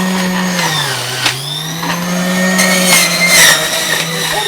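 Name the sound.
electric juicer running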